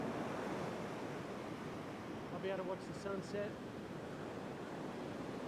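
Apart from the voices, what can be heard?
big waves and surf on a beach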